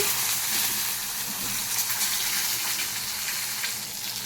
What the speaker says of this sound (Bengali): সবার প্রথমে আমি বেগুনগুলোকে ভেজে নিচ্ছি এক এক করে